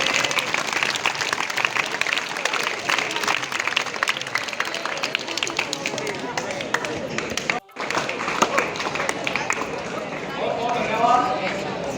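An audience at a school State Award welcome at GSSS Dadri Toye claps for about twelve seconds, a steady, fairly loud patter with one brief break midway. Voices can be heard faintly underneath.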